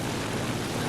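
Airplane engines drone in a video game aerial dogfight, a loud, continuous, broadband roar filling the whole moment with no talk.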